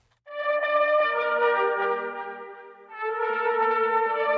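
Strings hold bright, clean sustained chords in two phrases with a brief dip between, the low end thinned out so the tone sounds crisp.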